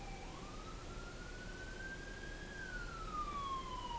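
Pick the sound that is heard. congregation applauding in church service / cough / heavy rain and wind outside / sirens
sirens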